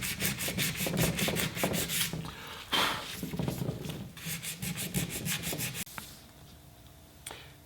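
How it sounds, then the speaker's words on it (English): Hand sanding of a 1954 Chevy steering wheel with 220-grit sandpaper gives close, rhythmic rasping strokes in quick bursts, pausing briefly before resuming, with a few knocks near the end. "I've been working on this strictly with the sandpaper, and I haven't gone past the 220 actually"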